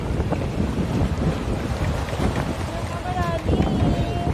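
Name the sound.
strong sea waves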